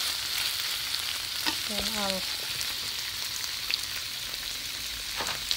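Chicken liver fries in a pan over medium heat, a quiet steady sizzle with a few stirring clicks and a brief spoken word.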